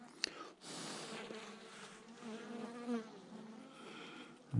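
Honeybees buzz steadily in an open hive, a dense continuous hum filling the whole stretch with small swells, a faint knock near the start and no talk.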